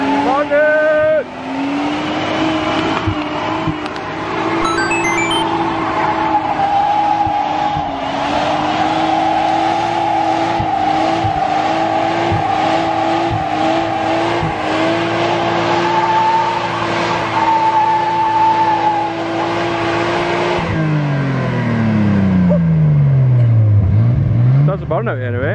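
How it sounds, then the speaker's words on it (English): A 90s Nissan R32 Skyline in old-school max-power trim holds a long burnout, the engine droning steadily near and loud with tyre squeal on top, then revs falling away at the end while people talk throughout. "Burnout anyway."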